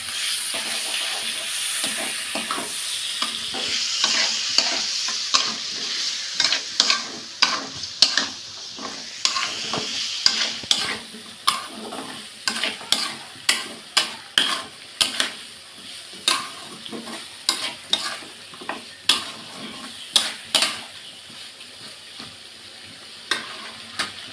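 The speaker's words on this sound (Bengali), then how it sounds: "মশলাটা দিয়েছি, তাই একটু জল দিয়ে এর সঙ্গে কষিয়ে নিতে হবে সামান্য একটু।" Ground spice paste and fried meat stir-fried with a splash of water in a pan: a steady close sizzle, cut in the later half by a run of sharp, rhythmic spatula scrapes against the metal, with no voices.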